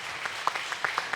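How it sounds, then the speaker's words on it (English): Light audience applause at a town hall meeting, a thin spread of claps with a few distinct sharp hits standing out. "please give Kwame a big round of applause"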